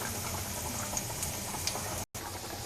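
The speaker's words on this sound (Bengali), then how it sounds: "আর এখানে হচ্ছে আমার ডাল রান্না হচ্ছে, ডাল ভুনা।" Dal bhuna (lentils) simmers in a pan with a soft, continuous bubbling and occasional tiny pops, quiet and close, broken by one brief gap of silence.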